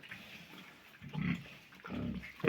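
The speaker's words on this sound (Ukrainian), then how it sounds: "Отакі свині. Теж досить гарна широка свиня" Pigs on a Ukrainian household farm grunt in two short bursts close to the recorder, separated by quieter pen ambience, with a sharper squeal-like sound at the very end.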